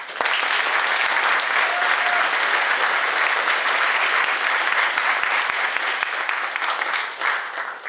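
An audience at a senior thesis presentation evening applauds to welcome the presenter, steady dense clapping that stays full and even for about eight seconds, with no voices above it.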